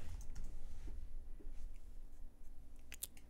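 Quiet, scattered clicks of keys being typed on a keyboard, soft and close, with a faint low background hum.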